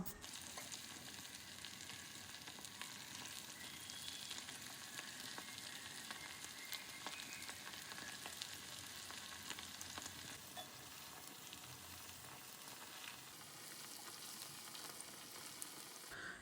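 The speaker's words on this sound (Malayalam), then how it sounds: "ഇനി ആ ഒരു ഓയിലിൽ തന്നെ നമ്മൾ നേരത്തെ മാരിനേറ്റ് ചെയ്ത് മാറ്റി വെച്ചിട്ടുള്ള ചിക്കനില്ലേ അതൊന്ന് ഫ്രൈ ചെയ്തെടുക്കാം" Marinated chicken pieces frying in hot oil, a steady dense crackling sizzle that holds at an even level throughout with no voices over it.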